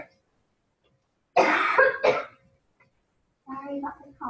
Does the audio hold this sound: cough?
yes